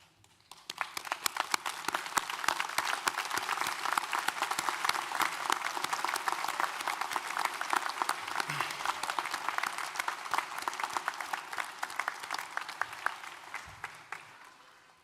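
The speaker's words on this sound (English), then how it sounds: "join me in a round of applause to thank them for their support" Sustained applause from a graduation ceremony audience, thanking friends and family, rising quickly and holding steady as dense clapping from a large seated crowd for about fifteen seconds.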